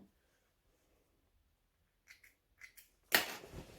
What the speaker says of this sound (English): So now I just need to go and trim off all of those tails that we created.